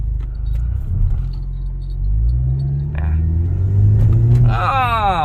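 A Mercedes-Benz W207 fitted with an electric throttle controller accelerates in a tight shop lot, its engine rumbling low and loud, then rising in pitch as it picks up speed close by, with a voice briefly heard over it.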